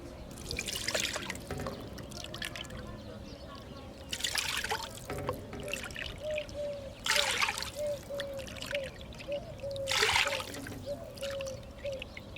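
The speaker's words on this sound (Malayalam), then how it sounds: "ആറേ മുക്കാൽ കപ്പ് വെള്ളം ഒഴിച്ച് കൊടുക്കുന്നുണ്ട്." Water pours into a pot of soaking jeerakasala rice for biryani in a home kitchen, a steady trickle in four louder bursts over a continuous low flow, with a faint voice underneath.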